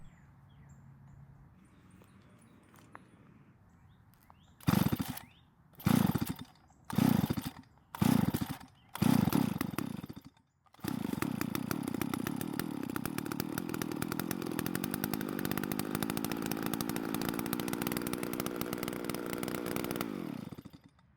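An old Stihl 024 AV chainsaw is pulled over five times with sharp, rhythmic bursts of cranking. It then fires up and runs at a loud, steady buzzing idle for about ten seconds before cutting off.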